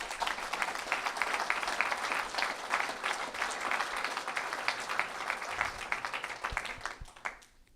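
An audience at a political campaign launch applauds steadily for several seconds, a dense sustained clapping from a crowd that fades out near the end.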